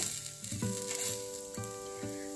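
Star anise, black cardamom, stone flower and bay leaf dry-roast in a pan, giving a soft rustle broken by several tonal metallic scrapes and rings from stirring, quiet and close.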